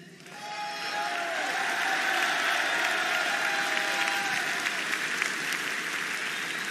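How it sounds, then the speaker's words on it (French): Crowd applause at a political rally for Éric Zemmour, broad and sustained clapping that swells in and holds at a steady level, with a faint tonal whistle or cheer drifting through early on. "N'applaudissez pas trop parce que j'ai peu de temps"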